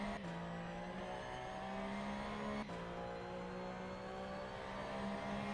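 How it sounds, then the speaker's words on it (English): A racing video game car's engine drones steadily at a high, sustained pitch, its note shifting slightly as it runs. The sound is quiet and continuous, with a couple of brief dips. "with car noise being what it is, it's definitely the sort of noise that you can typically handle being louder"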